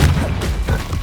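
A Bombarda spell explosion in Hogwarts Legacy gives a dull, heavy thud with a couple of follow-on booming impacts, loud and close in a brief burst.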